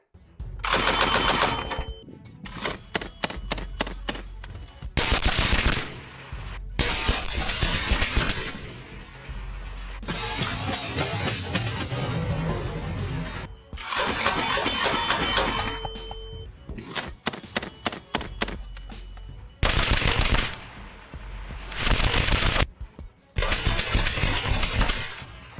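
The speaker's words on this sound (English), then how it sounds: "After all, this is a large caliber DShK machine gun." A large-caliber DShK machine gun fires at barrels in loud, rapid bursts of heavy thumping shots, several long strings broken by short pauses, close and overpowering, with a ringing roar carrying through one stretch.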